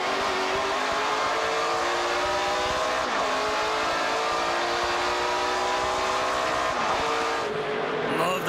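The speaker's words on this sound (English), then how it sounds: "The sound of the engines on these cars as they head down the back straightaway." NASCAR Pinty's Series race car engines roar loudly heading down the back straightaway, heard onboard as a continuous high-revving drone with gear shifts changing the pitch.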